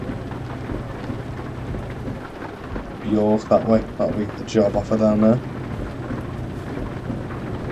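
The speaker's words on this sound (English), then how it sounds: "Oh, this rain is relentless." Steady rain drums through the whole stretch inside a truck in the game Euro Truck Simulator 2, with someone talking over it midway.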